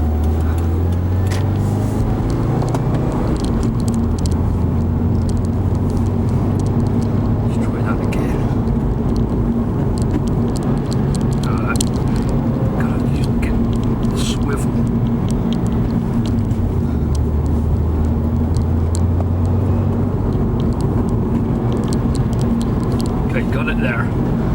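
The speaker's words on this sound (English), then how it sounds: "Clutch, brake on, clutch in the gear, and just as you let the clutch out is when I'm trying to blip it" A 2016 Subaru WRX engine droning loudly from the cabin, its pitch rising and falling with gear changes during heel-toe downshift practice, under almost continuous talk.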